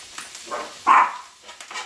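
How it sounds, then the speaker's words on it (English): A single sharp dog bark rings out at moderate distance, with quieter rustling and faint background noise before and after. "She just barks out of her shadow."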